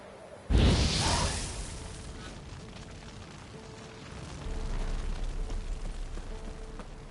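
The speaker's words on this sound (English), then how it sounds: "Now for a shot of Igni." An Igni fire sign cast in The Witcher 3 on PS4 lets out one loud, close fiery whoosh and burst near the start. It fades over a second or two into quieter game ambience with a faint steady hum.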